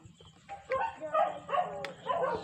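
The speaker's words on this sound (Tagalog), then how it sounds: "Umuungol na yung aso, guys." A dog howls in long, wavering, mournful tones at moderate distance, rising and falling over a quiet background.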